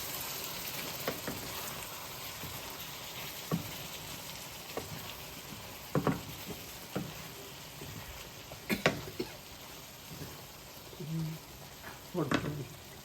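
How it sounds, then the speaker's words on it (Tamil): Kidney beans stirred into chicken frying in a pan give a quiet, steady sizzle broken by scattered scraping and clinking stirring sounds. "இதோட நாங்கள் சேர்த்து கிட்னி பீன்ஸையும் இதோட கலப்போம்."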